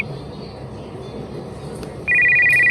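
An incoming call sets off a cellphone ringtone, a sudden loud electronic tone that starts abruptly after a stretch of quiet room noise and rings steadily to the end.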